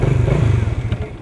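A motorcycle engine warming up before a ride, a steady, close low idle rumble with slight clatter throughout, settling a little softer near the end.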